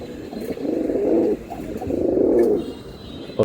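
Silver Giribaz pigeons in a loft, giving two soft, rounded coos close by, each lasting about a second with a short gap between them, with no talking.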